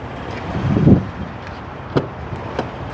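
A door opens on a 2015 Chevy Tahoe LT with a single close, dull thump, followed by a few faint clicks in a quiet setting.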